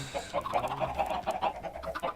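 Chickens clucking in the Minecraft survival video game, a run of short, repeated clucks and fowl calls with no talk over them.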